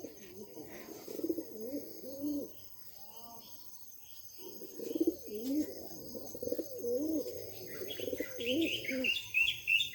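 Pigeons coo in repeated soft, throaty bursts at close range, with a pause in the middle, while chirps, insect buzzing and faint background voices fill in around them.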